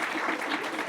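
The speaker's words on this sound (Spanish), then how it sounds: "Maestra Paola, un aplauso nuevamente." A brief burst of audience applause at a public consultation forum, a dense wash of clapping that is blurred and sustained for under a second.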